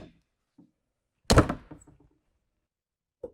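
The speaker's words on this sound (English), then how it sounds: "put it back on, and we'll close the door." The entry door of a 2027 Newmar Mountain Aire motorhome swings shut with one solid, close thunk and a brief rattle after, in an otherwise quiet space with no voices.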